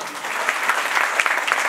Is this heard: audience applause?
yes